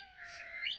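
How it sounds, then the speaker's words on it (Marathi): Parrot calling near a nest in an outdoor spot busy with birds, giving a brief, faint, shrill squawk that rises slightly toward the end over quiet background. "पोपटाचा आवाज"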